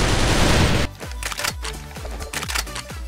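FN FAL rifle firing 7.62 ammunition in the shooter game CrossFire, six heavy, slow-paced shots at steady intervals, each with a deep booming report and metallic ring, loud and close after a burst of noise.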